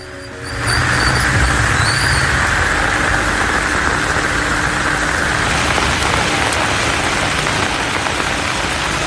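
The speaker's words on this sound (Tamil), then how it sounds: "சுமார் 1 மணி நேரத்திற்கும் மேலாக மிதமான மழை பெய்தது" Moderate rain falls steadily in a hill town during a thunderstorm. A dense, even hiss starts abruptly and continues loud and unbroken to the end, alone.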